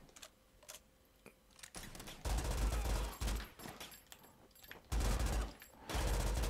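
Rapid gunfire from a weapon in the shooter game RICO comes in several loud bursts of quick shots, with quieter clicks and thumps in the gaps between them.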